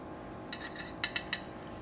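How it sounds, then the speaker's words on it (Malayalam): Air fryer chicken dum biryani is served onto a plate, with a few sharp, close metallic clinks of a spoon against the dish over a quiet background and no talking. "ഞാൻ കുറച്ച് പ്ലേറ്റിലേക്ക് എടുക്കട്ടെ കേട്ടോ"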